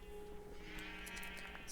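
Sheep bleat faintly on a flat-world sheep farm in Minecraft, a couple of short wavering calls over a steady background hum.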